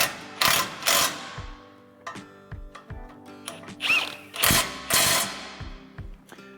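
A hand ratchet tightens 19 mm spindle bolts on a Toyota Tacoma during lower ball joint reinstallation, with several bursts of rapid clicking alternating with short pauses, close and fairly loud.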